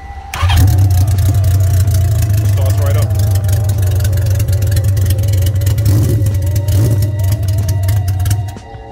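A 1976 Honda CB550 motorcycle engine cranks on the starter, fires and settles into a steady, loud idle close by, running continuously for about eight seconds before cutting off.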